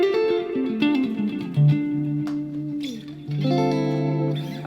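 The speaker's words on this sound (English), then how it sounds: "at the end of the chain, I've got the spring reverb, the Legacy Spring" Clean electric guitar through a Line 6 Helix with Legacy Spring reverb, playing sustained melodic notes and chords that ring out with a lush, springy tail, loud and close with no talking.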